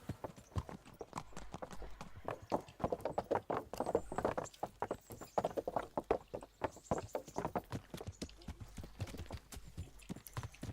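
Horse hooves clip-clop in a steady walking rhythm in the medieval game Kingdom Come: Deliverance, a long run of distinct moderate hoofbeats with no voices over them.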